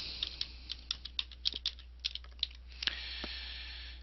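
Keystrokes on a computer keyboard while entering a search term, about a dozen quick, uneven clicks over three seconds followed by quiet, fairly faint with no talking.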